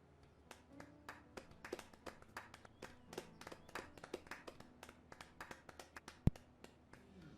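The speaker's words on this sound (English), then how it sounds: "Clap your hands if you like." Audience members clapping hands during a talk on automation, sparse and faint separate claps in an uneven rhythm scattered across several seconds, some quiet taps in between, with no voices over them.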